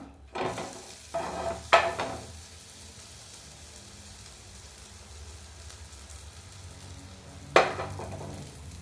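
Bread slices frying in butter in a pan for a tofu sandwich: a faint, steady sizzle runs throughout, broken by a few sharp clacks of a utensil against the pan near the start and again near the end.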